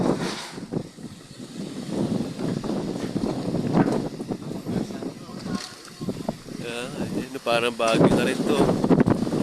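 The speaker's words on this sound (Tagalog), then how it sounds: "Grabe, lakas ng hangin, no?" Gusty wind on a mountain at Padre Pio buffets the microphone with a rough roar while someone speaks casually over it.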